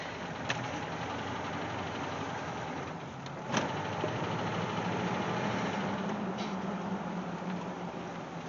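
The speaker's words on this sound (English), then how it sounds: "let you guys hear that tick from the outside again now that it's got a little bit of warmth in it." A warmed-up Jeep Wagoneer engine idling, heard from outside the vehicle, with a faint steady ticking over a low running rumble and one or two sharper knocks.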